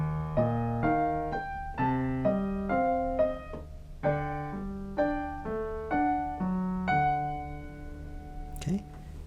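Piano playing the right-hand melody of a song, a clear sequence of separate notes and small chords in a steady moderate rhythm, fairly quiet and unaccompanied by speech.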